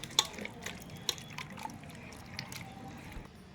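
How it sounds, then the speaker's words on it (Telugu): Tamarind pulp squeezed by hand in a bowl of water gives soft wet squishes, small splashes and scattered drips. The sound is quiet and close, and no one speaks. "ఇలా వాటర్ వేస్తూ దీంట్లో ఉన్న గుజ్జును మళ్ళీ విడిగా వచ్చేటట్టు పిసకాలండి."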